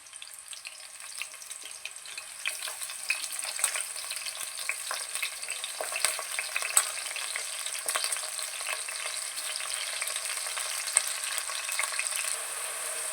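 Onions and green chillies sizzle in hot oil, a steady, bright frying hiss that holds for the whole stretch, close and fairly quiet.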